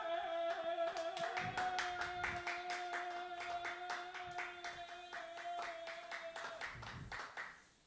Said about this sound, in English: That deserves some applause for my big crowd here.